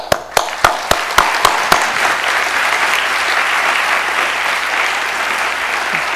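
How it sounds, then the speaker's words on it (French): Audience applause filling a conference hall after a guest's talk at an opening ceremony, starting with a few sharp separate claps that quickly build into steady, dense clapping that holds loud for several seconds. "Et donc, on va applaudir."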